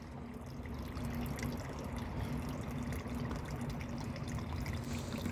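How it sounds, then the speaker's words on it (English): Rain barrel overflow spilling into a garden pond like a small waterfall, a steady soft trickle and splash running continuously at moderate distance, with a low constant hum beneath. "I like the little waterfall sound."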